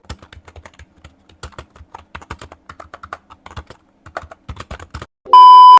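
Typing on an Ant Esports MK700 V2 RGB gaming keyboard, a close, steady clatter of key presses at an uneven rhythm, ending in a loud electronic beep.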